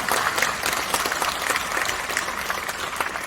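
Applause after a speech at a church forum on Syngman Rhee and the Korean War: steady, dense clapping from a large crowd filling the whole clip, with no talking over it.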